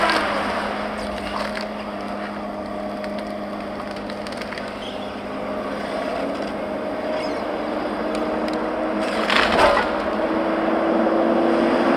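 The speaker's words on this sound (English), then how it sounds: "It slows down a little bit when you grab a tree, but it just automatically recovers. You can hear it picking up speed there." A feller buncher logging machine's engine hums steadily and rises in pitch as it picks up speed, with cracks and splintering of wood from tree felling, loud and close throughout.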